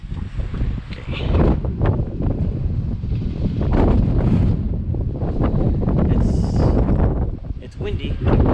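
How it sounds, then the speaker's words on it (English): Strong gusting wind from a severe thunderstorm buffets the microphone with loud, rough rumbling that surges and eases in waves, carrying blowing dust, while someone speaks briefly close by. "It's windy."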